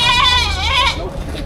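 Several loud, close bleats from three goats at a livestock market, wavering and nasal, overlapping in quick succession.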